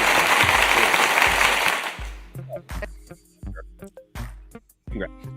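Studio audience applause on a basketball talk show, a dense steady roar of clapping for about two seconds that then breaks off into speech with sharp bursts.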